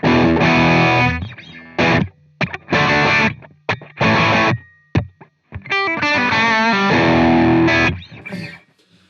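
Electric guitar through a Suhr PT100 amp plugin with a plexi-like crunch: loud, chopped chords and short stabs with gaps, then a longer run of picked notes near the end.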